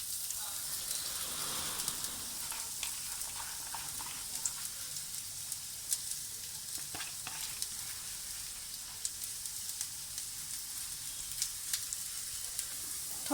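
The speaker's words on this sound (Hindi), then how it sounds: "अब उसमें हम डालेंगे 2 अदद मीडियम साइज़ के प्याज" Two medium-sized chopped onions fry in a couple of spoons of oil on a tawa, producing a soft, steady sizzle scattered with small crackles and pops throughout.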